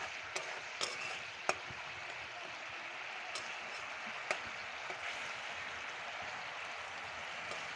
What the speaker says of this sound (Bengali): মাছগুলো ভালো করে কষিয়ে নেব।